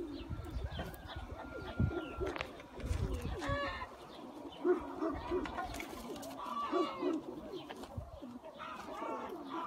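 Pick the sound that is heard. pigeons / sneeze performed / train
pigeons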